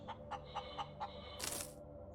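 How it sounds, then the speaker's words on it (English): A chicken companion in the space survival game Breathedge gives a series of short clucks in a steady rhythm, followed by a brief, louder squawk. "Chicken, I need you."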